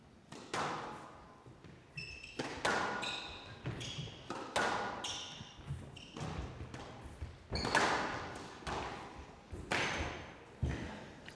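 Squash ball struck during a professional match at the Windy City Open, a series of sharp thwacks and echoing thuds off the court walls spaced about a second apart, with faint crowd ambience behind.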